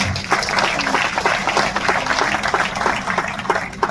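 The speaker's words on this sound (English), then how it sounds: "A round of applause for our chief guest again." Dense applause from a university audience greets a chief guest at a constitution museum inauguration, a sustained, fairly loud wash of many hands clapping together with no speech on top.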